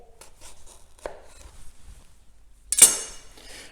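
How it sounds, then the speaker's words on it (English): A knife cutting a tomato into quarters on a board: a few faint, soft strokes, then one sharp, close chop against the board near the end. "I'm going to cut the tomato into 4"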